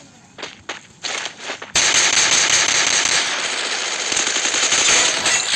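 Gunfire in a shooting video game: a few scattered shots at first, then a loud, dense, continuous burst of rapid automatic fire that carries on to the end.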